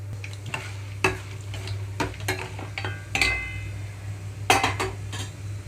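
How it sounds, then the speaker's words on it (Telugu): Tempering seeds fry in hot oil in a pan for tomato pickle, a soft steady sizzle broken by sharp spoon-and-pan clinks and scraping stirs at irregular intervals. "ఇక్కడ ఆయిల్ కాగిన వెంటనే తాలింపు గింజలు మొత్తం వేసుకుంటున్నాను"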